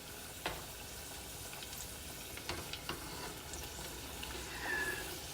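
Peach cobbler egg rolls fry in hot oil with a steady low sizzle, a few sharper pops and crackles rising above the constant bubbling hiss.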